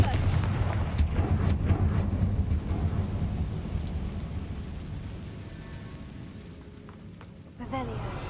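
A Confringo blasting spell goes off in the Hogwarts Legacy video game as a loud, deep, rumbling blast with crackling debris that slowly fades, then a sharper burst near the end.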